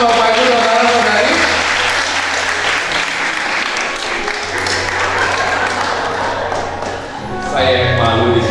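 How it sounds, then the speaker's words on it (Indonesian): Sustained audience applause fills a wedding blessing ceremony, loud and steady for the full stretch with a brief dip near the end, while musical tones and murmured voices run underneath. "Mari kita berikan tepuk tangan Bapak Ibu,"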